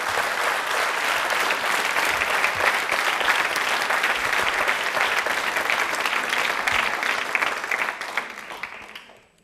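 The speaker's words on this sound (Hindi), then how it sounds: "तालियां बजाइए उनके लिए" Studio audience applauding during a televised college quiz show, steady dense clapping at close range that holds for about nine seconds before tapering off at the end.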